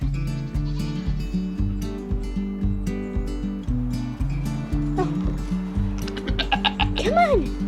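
A baby goat on a homestead bleats in short repeated calls over a steady rhythmic thumping, close and fairly loud, with a higher wavering bleat near the end and people talking nearby.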